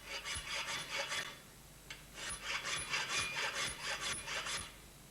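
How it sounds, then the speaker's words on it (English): Steady back-and-forth rasping of a hand file on steel bicycle frame lugs, two runs of rhythmic strokes separated by a brief pause, close and fairly loud. "We file the lugs up very carefully and change their shape"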